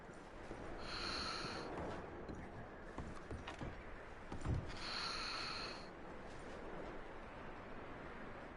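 A horse snorting in the Red Dead Redemption 2 video game, with breathy exhalations and a brief low thump, close and moderately quiet over steady background ambience.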